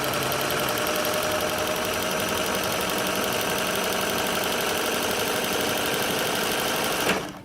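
A Singer 503A sewing machine runs steadily after fresh oiling, a continuous loud mechanical whir with fine rapid ticking for about seven seconds before it winds down at the end.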